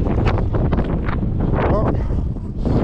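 Strong wind gusts buffet the microphone at Lybster Harbour in Caithness, a loud rough roar that surges and eases, with a voice briefly heard among the blustering.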